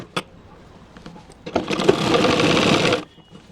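A sewing machine stitches pant pieces together for gathered wrinkle pants. A few soft clicks lead into a close, steady, rapid mechanical whirr for over a second before it stops.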